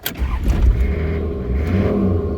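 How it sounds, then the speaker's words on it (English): A diesel boat engine revs up close and loud, a steady throaty roar that swells and holds for a couple of seconds with no talking over it. "Never get sick of the sound of that either. Diesel, tight as man. It's a nice engine."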